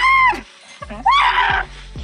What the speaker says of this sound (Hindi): ऊंट को भी देख लीजिए, जो इतना ज्यादा डर रहा है कि अजीब सी आवाजें निकालकर चिल्ला रहा है